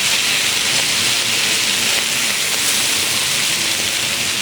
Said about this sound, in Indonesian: Ini kita mau mendapatkan sedikit aroma dan juga warna ya dengan proses membakar ini.